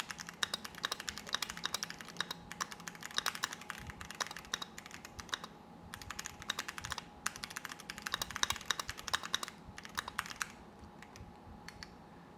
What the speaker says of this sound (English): I love this keyboard. I like the sounds it makes when we type.